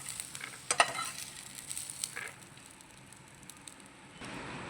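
Chopped tomatoes fry in a spoonful of oil over a low flame for a coriander-tomato chutney, giving a soft, steady sizzle with a couple of sharp utensil clinks early on. Quiet and close, with no talking.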